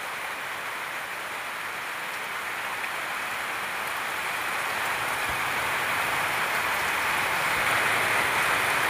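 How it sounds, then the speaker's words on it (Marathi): Heavy cloudburst rain pours down continuously over farmland near Puluj, a dense, even roar of drops hitting surfaces that grows slightly louder over time, with no voices. "रातभर झालं पाऊस चालू आहे"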